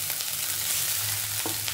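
Cumin and partly cooked rice frying in ghee in a home kitchen, a steady close sizzle with a few stirring scrapes and no voices.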